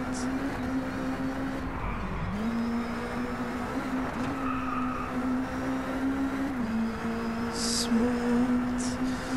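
A race car engine in Driveclub holds a steady, droning tone near and loud, dipping and climbing briefly as the car shifts, with faint tire and track noise running through the run.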